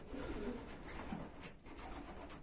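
Pigeons coo softly and repeatedly, low burbling calls close by, with a steady background rumble.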